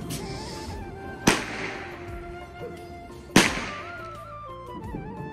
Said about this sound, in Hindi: सो हनु मैं यहाँ पे छुड़ा रहे पटाखे